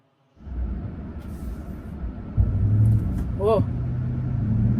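A Ram 1500 Hemi V8 pickup fires back up and pulls away, a steady low engine rumble that jumps louder partway through and holds under a brief exclamation from the driver.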